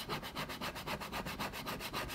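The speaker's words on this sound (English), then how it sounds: "we're going to use our edge rougher and rough up those edges like we did earlier" An edge rougher scrapes along the leather edges of a bifold wallet in quick, even back-and-forth strokes, a close, steady rasping rhythm.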